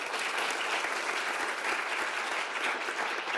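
A round of applause from an audience at a community talk, steady dense clapping holding at an even level throughout, with no voices standing out.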